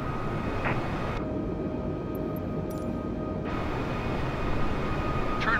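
Airbus A320 engines in Microsoft Flight Simulator 2020 make a steady, loud broadband roar with a faint high whine. The drone holds unbroken throughout, with no speech.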